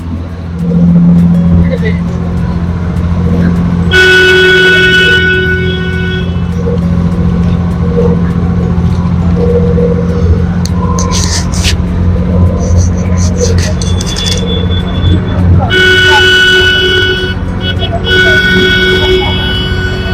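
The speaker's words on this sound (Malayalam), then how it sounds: "ഹോൺ അടിച്ചിട്ട് ഉണ്ടാവും." At a boat jetty in Alappuzha, a boat horn gives loud sustained blasts over a deep engine drone while people talk nearby.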